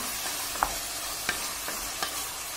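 Minced meat, onion, carrots and garlic fry in a pan for cauliflower moussaka, a soft continuous sizzle with four light taps of a stirring utensil, close but quiet.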